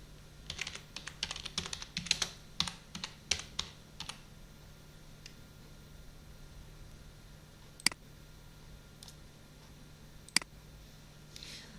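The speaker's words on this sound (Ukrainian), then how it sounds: "А в цьому текстовому полі ми можемо надрукувати гральний кубик." Quiet typing on a computer keyboard, with a burst of rapid close key clicks at first, then a few isolated taps spread over a faint steady hum.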